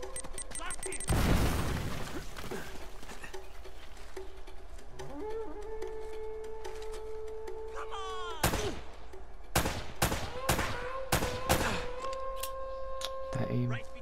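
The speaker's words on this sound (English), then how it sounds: "You just threw a grenade at me." A grenade blast and scattered gunfire in Uncharted: Drake's Fortune: one heavy explosion early, then a cluster of sharp, loud gunshots later, over quieter game sounds.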